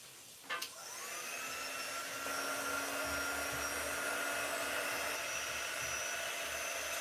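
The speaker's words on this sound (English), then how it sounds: "We'll break out the heating tool here and start drying it." A quick-dry heating tool blows steadily while drying a chalk transfer silk, starting with a brief click and then holding a constant, loud whirring hum with no talk.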